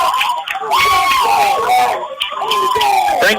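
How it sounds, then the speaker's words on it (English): A home crowd at a Frankfort boys' high school basketball game against Blue Valley roars and screams in loud, sustained waves, swelling twice with shrill cheering in a gym. "Frankfort crowd happy over here on this side"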